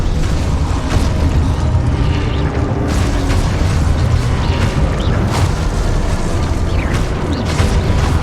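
Explosive spell blasts in Hogwarts Legacy combat: a dense, loud, unbroken barrage of booms, bursts and mechanical crunches that keeps going throughout with sharper impacts scattered in.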